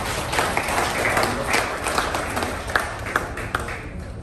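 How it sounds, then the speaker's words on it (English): An audience at a moot court competition claps in a steady, moderate wash of scattered hands, with a few sharper individual claps standing out toward the end. "I think they deserve another round of applause"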